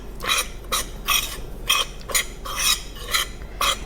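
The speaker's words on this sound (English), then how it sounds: "And now I'm just going to give this a nice little stir to get all of those mixed in together" A utensil stirs dry cornbread muffin ingredients (cornmeal, flour, baking powder, salt and baking soda) in a bowl, making a steady series of scraping, rasping strokes about twice a second, close and clear, with no talking.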